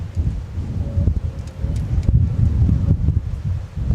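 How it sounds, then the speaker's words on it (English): Strong crosswind buffeting the microphone at Minneapolis–St. Paul Airport: loud, gusty low rumbling and rustling that rises and falls continuously, with no talking. "And there goes the wind yet again."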